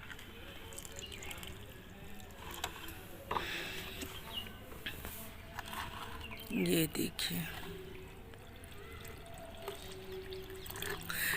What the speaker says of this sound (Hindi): ये मेरे पास चावल का पानी है धुले हुए। अब ये मैं सारा का सारा अपने प्लांट में डाल दूँगी इस तरीके से।